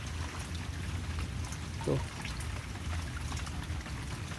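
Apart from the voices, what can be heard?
continuous rain falling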